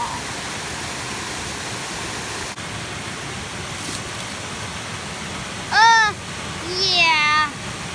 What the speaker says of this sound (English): David, I don't really think we should climb that waterfall.